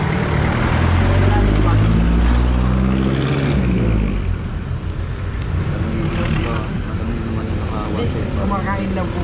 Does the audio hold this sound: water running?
no